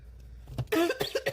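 A single sharp cough bursts out after a soft lead-in, followed by a couple of shorter rough coughs or throat-clearing hacks, close and fairly loud with no talk.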